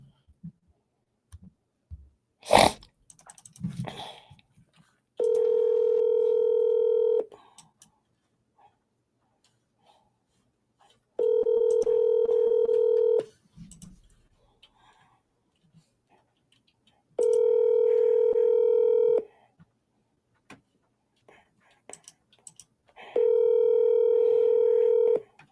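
Four long, steady telephone tones sound at regular intervals, each lasting about two seconds and separated by quiet gaps, preceded by a few sharp clicks and brief handling noises at the start.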